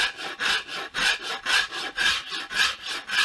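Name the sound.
Japanese rasp rounding over a guitar neck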